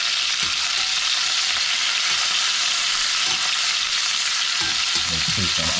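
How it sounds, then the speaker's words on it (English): Oxtail pieces sear loudly in a hot pan while being browned on all sides, a dense, steady sizzle with occasional shuffling as the meat is turned. "So we're browning on all sides here."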